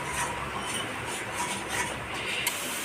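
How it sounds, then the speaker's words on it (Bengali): Spice paste for prawn malai curry is stirred and fried with water in a pan, giving a steady close rasping scrape with a sizzling hiss and no talking. "এবার আমি জল দিয়ে মশলাটাকে কষিয়ে নেব।"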